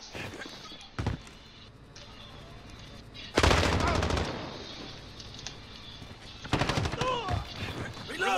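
Call of Duty Modern Warfare gunfire from a multiplayer match: a short early shot, then loud automatic bursts around the middle and near the end, with quieter footsteps and game sounds between.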